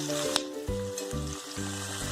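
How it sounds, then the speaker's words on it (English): Chopped onion frying in hot oil over a high flame, a steady close sizzle and crackle running through the whole stretch with a few brief louder pops. "We fry onion on high flame till it changes its color to golden brown."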